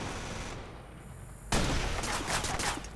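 Sniper and small-arms gunfire in the PC game Watch Dogs: a dense wash of shots that thins briefly and then surges back louder in a sustained burst, with no voices.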